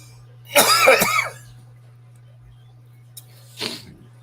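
A person gives two separate coughs during a relaxed Sunday hangout session, a thick, throaty burst followed about three seconds later by a shorter cough, with quiet in between.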